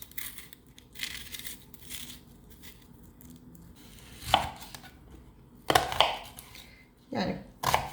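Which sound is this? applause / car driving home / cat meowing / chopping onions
chopping onions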